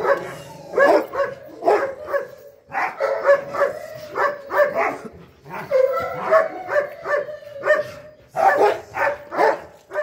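A dog barks and yips in short repeated bursts during towel tug training, loud and close, with brief whimpers between the barks.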